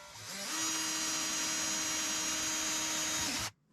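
A power drill whines steadily at high speed for about three seconds, then stops abruptly, close and fairly loud, boring a hole in the plastic fuel tank of a Dodge Ram 2500.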